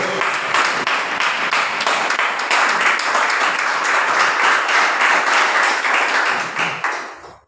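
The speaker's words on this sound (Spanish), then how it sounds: "brindando un fuerte aplauso al Señor" A church congregation applauding the Lord during a service, full and sustained clapping from many hands, loud and close, holding steady for about seven seconds before fading out.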